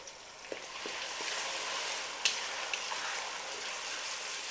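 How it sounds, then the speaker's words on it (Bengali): Ginger garlic paste and onion paste frying in a pan for chicken curry, a steady soft sizzle with a few light clicks of stirring throughout. "এবার আমি দিয়ে দিলাম আদা রসুনের পেস্ট, আর দিয়ে দিচ্ছি পেঁয়াজ বাটা"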